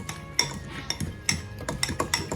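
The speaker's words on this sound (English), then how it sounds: "we're gonna just mix this all together" A utensil scrapes and clinks against a bowl while marinade containing white wine is stirred together, in a rapid series of close, light metallic taps and knocks.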